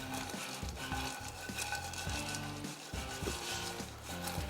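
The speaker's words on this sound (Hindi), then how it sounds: "ये शामिल कर दिए इसमें मखाने भी और इसको भी फ्राई करेंगे" Fox nuts (makhana) frying in oil for brinjal pickle, with a continuous bubbling sizzle and repeated scraping stirs of a spoon against the pan.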